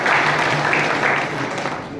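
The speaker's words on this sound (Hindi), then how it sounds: "आपने ताली बजा दी" An audience at a political gathering bursts into loud, dense clapping that fills the space, steady throughout and slightly fading at the end.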